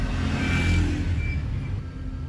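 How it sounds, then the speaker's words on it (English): Road traffic with cars crawling through a jam in Enugu, Nigeria, a close engine hum and rumble with a faint horn-like tone over it, lasting a couple of seconds. "So this is 1 of 4 traffic that I'm facing."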